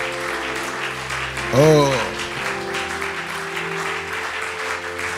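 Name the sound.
applause and acclamation for the Lord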